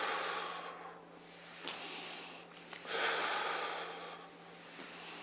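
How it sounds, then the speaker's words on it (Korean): Slow, audible breaths, exhaling and inhaling in turn during a seated hip exercise of opening and closing the legs, with long airy breath sounds and a faint steady hum beneath. "다리를 벌릴 때는 숨을 내쉬고요, 오므릴 때 숨을 들이마십니다"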